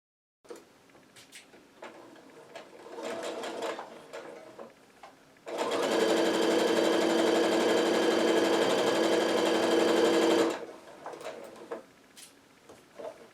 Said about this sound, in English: Now we need to get our second row sewn together.